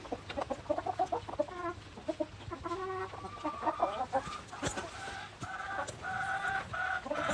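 Chickens cluck busily while pecking at pumpkins and cabbage, a close run of short, overlapping clucks and murmurs from several birds over a quiet background, with no talk.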